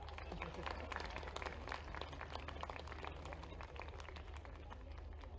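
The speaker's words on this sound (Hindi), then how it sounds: "तालियां तो बजाओ" An audience claps faintly but steadily, a dense patter of hands, welcoming Governor Mangubhai Patel at the Lokrang festival in Ravindra Bhavan, Bhopal, with a low hum beneath.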